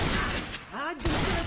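Rapid gunfire crackles in the Left 4 Dead 2 game in a dense burst of shots, with a short pause in the middle. Voices talk over the shooting.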